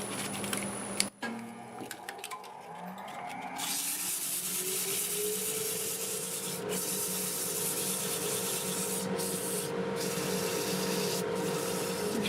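Steady abrasive rubbing of sandpaper against spinning myrtle wood on a lathe, backed by a constant dust collector and machine hum and whir that sets in after a brief start-up.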